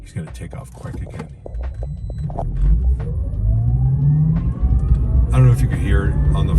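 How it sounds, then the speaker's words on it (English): An ElectraMeccanica SOLO electric car pulls away from a stop, its motor whine rising steadily in pitch over a low road rumble, with a person talking over it inside the cabin. "you can definitely hear the whine of the electric motor"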